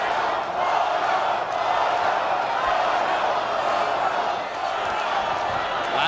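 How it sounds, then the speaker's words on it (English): A large boxing arena crowd roars steadily, a thick, continuous wall of voices with a chant-like swell running through it, heard from a distance and with no clear single voice. "Latin American segment of the crowd chanting Goyo, Goyo, Goyo"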